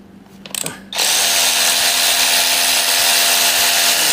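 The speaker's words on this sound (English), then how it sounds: "Get the old ratchet out." A DeWalt power ratchet buzzes steadily while removing parts, starting after a few short knocks and then running loud and continuous, close up, to the end.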